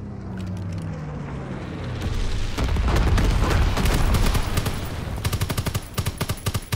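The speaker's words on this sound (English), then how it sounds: "Enemy bomber approaching. Incendiary bombs incoming." Incendiary bombs from an enemy bomber explode in the World War II shooter Call of Duty: WWII, starting as a low rumble and building into a dense, loud barrage of blasts with rapid sharp cracks toward the end.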